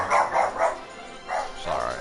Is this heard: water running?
no